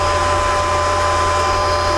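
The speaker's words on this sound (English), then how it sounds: "you can simply push the trigger and it's going to feed this wire." A gasless flux core welder feeding wire with the trigger held and the machine unattached: a steady, loud motor whir with a constant hum, unchanging for the full two seconds, no talk.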